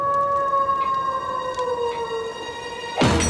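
A cartoon wolf's drawn-out howl, a long, clear, tonal wail that slowly glides downward, heard alone for about three seconds before a sharp, louder burst cuts in at the end.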